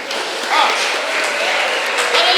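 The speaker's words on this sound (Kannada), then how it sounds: "ಎಲ್ಲರೂ ಜೋರಾದ ನಿಮ್ಮೆಲ್ಲರ ಚಪ್ಪಾಳೆ ಬರಲಿ ನಮ್ಮ ವಧುವರರಿಗೆ" Loud, continuous crowd applause for the bride and groom at a wedding scene in a Maya Sundari performance, a dense wash of clapping that swells slightly midway, with faint voices blended into it.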